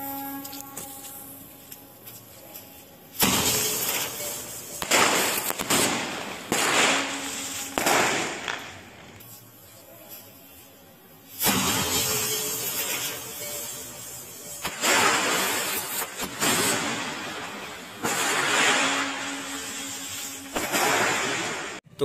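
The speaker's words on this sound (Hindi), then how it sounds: "करते हैं नेक्स्ट क्रैकर टेस्टिंग, जो कि होने वाला है हमारा कॉक ब्रांड का 7 शाउंड" Cock brand 7-shot firecracker set off outdoors during a cracker test: a series of loud, sharp bursts spaced a few seconds apart, each with a crackling tail, with no voices.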